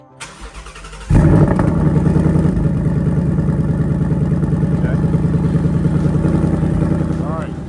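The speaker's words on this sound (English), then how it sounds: "Let's listen to the exhaust." A Dodge Challenger Scat Pack or Ford Mustang Bullitt engine cranks and bursts into life with a loud exhaust blip, then settles into a steady, throaty idle close by; a voice speaks briefly.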